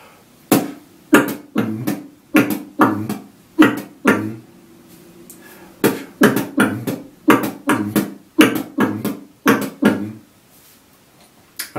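A beatboxer imitates bongo drums with the mouth, producing a fast, rhythmic series of short hollow percussive hits in grouped patterns, close and clear, with one brief pause partway through.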